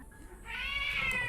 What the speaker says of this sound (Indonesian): kucing aku tuh sibuk mau kawin dia